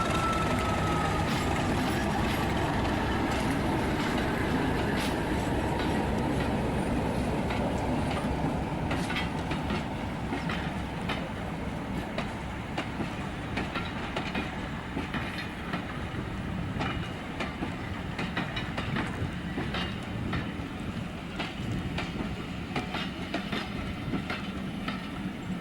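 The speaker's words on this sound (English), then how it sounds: "the big blue diesel couples up again and takes the passengers back down the line where Thomas was." A big blue diesel locomotive hauls a passenger train on a heritage railway. Its engine drones steadily as wheels clatter rhythmically over rail joints, loud and close throughout, with faint squeals.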